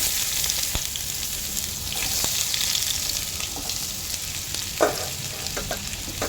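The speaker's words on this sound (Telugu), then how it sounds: "ఇప్పుడు ఇదే ఆయిల్లో మనం ఉల్లిపాయలు వేసుకుందాము" Onions sizzle steadily in hot oil for a liver and amaranth-leaf curry, with a constant bright crackle and a few soft stirring knocks, close up and with no talking.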